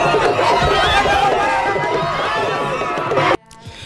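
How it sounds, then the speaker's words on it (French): A large, excited crowd welcomes politician Aly Ngouille Ndiaye at a rally, with loud chatter and cheering close by that cuts off abruptly near the end. "Aly Ngouille Ndiaye est accueilli par une foule en délire"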